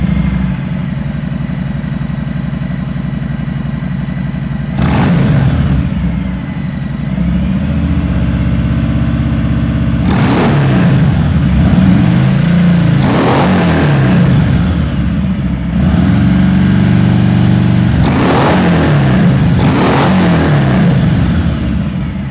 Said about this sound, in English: This uses a louvered baffle as opposed to just perf core baffle, and it does have a little bit different sound than the Vance and Hines.